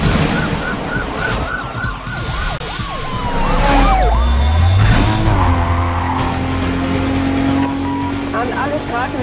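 A sports car in a Need for Speed: Carbon police chase accelerates hard, its engine note climbing steeply, with wailing sirens and tyre noise around it and voices speaking over the loud, busy mix.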